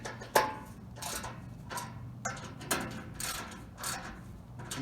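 A socket wrench ratchets while tightening bolts on a DIY raised planter bed joint, giving several separate clicking bursts at an uneven rhythm, close and fairly quiet, with no talking.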